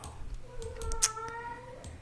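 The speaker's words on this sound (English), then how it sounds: "sorry guys, my cat is psycho" A pet cat gives a single drawn-out meow, close and moderately loud, with a harmonic tone rising and then falling over about a second and a half, against a quiet indoor background.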